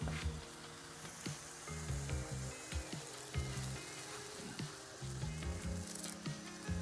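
A sprig of fresh curry leaves hits hot oil already holding fried green chillies, the base of a fish tamarind stew, giving a steady, close crackling sizzle with small pops and low rumbling beneath, no voices.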